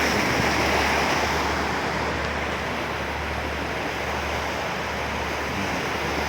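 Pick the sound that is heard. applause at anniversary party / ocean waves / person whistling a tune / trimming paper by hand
ocean waves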